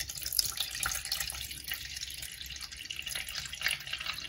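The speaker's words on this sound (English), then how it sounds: "And add that 375 grams of water" Water pours from a tap into a container while making sourdough bread, a steady close splashing flow with no talking.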